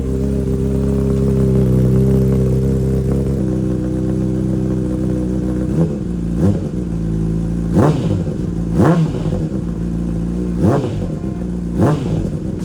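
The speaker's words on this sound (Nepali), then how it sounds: "मैले चाहिँ बाइक वार्म अप गरेँ, अनि अफ गरेँ" A CBR 600RR sport motorcycle engine warming up idles steadily, then gets revved in several sharp bursts, each climbing and falling back, loud and close with no talking.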